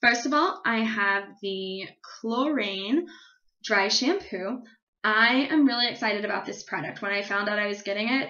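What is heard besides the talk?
No everyday noises stand out.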